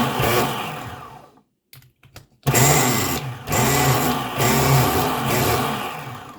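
A long-stored nitro RC engine that had been stuck, a Megatech model, runs loud and close with a buzzy high-revving whine. It cuts out briefly into near silence, then restarts and keeps revving with uneven surges.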